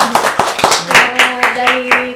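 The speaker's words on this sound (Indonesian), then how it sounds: "Tepuk tangan dulu tuh." A few people clap together in a small indoor setting during a talk about a taekwondo athlete, a loud, close, slightly uneven burst of handclaps lasting about two seconds, with a voice sounding briefly alongside.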